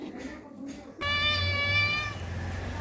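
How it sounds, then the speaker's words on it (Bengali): A cat begging for fish gives one clear, drawn-out meow close by, preceded by quieter background sounds. "ওই দেখো মাছ খাওয়ার জন্য ম্যাও ম্যাও করছে"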